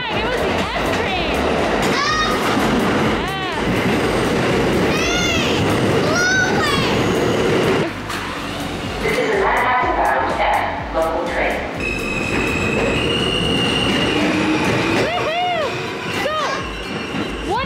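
New York City MTA subway train departing a station, with screeching metallic squeals and rumble, loud and close, while people talk and children's voices are heard throughout.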